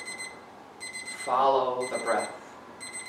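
Meditation timer alarm chiming to end a mindfulness session, a sustained electronic ringing tone that pauses and resumes, with a calm voice speaking over the middle of it.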